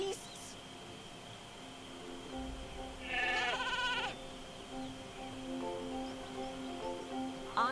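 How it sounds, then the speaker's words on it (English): Video game sheep bleat against a steady electronic hum, with one clear burst of bleating in the middle and fainter calls near the end. "Honestly, Hugo, they're just sheep."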